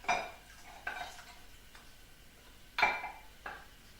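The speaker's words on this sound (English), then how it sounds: "start to add a little stock to the corn flour, stirring all the time" Spoon scraping and clinking against a pan while stock is stirred into corn flour for a Japanese pork curry, in a few short separate strokes with quiet gaps between them.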